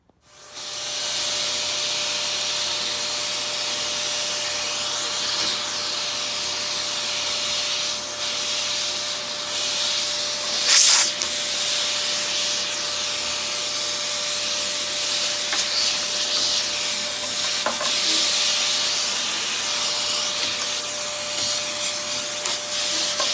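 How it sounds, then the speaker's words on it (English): Steady, loud hiss and whine of a vacuum cleaner sucking up fiberglass dust while building a Cobra 427SC replica, running continuously with brief scraping bursts from the nozzle along the surface. "I just find it really satisfying to vacuum up all of the fiberglass dust."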